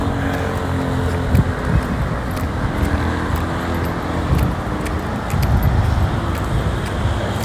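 A car driving along a road during a driving practice session, steady engine and road rumble throughout with a few light knocks and rattles, no speech.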